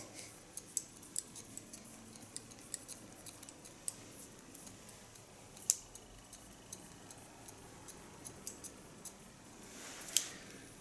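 Scissors snip through hair during a haircut for a woman over fifty, a series of quiet, crisp cuts in an irregular rhythm, close up in an otherwise quiet room.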